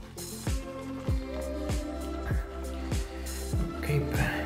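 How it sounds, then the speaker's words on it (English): Omega 10049 boar bristle brush lathering Oleo Soapworks rose-scented shaving soap, soft wet squishing strokes in a regular rhythm of about one every half second, close and quiet. "that's quite a dense lather building up there"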